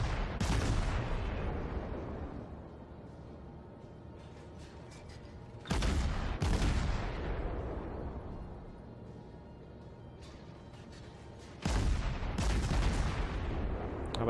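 Naval cannon fire from warship guns in World of Warships, three heavy booming salvos spaced several seconds apart, each with a long rumbling decay, no talk.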